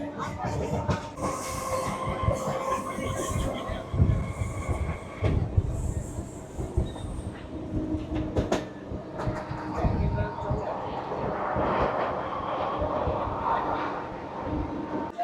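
A local passenger train between Kakdwip and Namkhana rumbles along as heard from inside the carriage, with rattling, clanking wheel noise and wagon creaks over a steady roar, and a few voices talking in the background.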